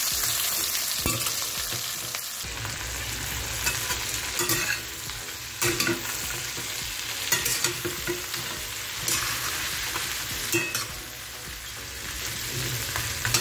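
Prawns fry in a pan for a Bengali prawn malai curry, giving a loud, steady sizzle with repeated bursts of stirring and spatula scrapes throughout.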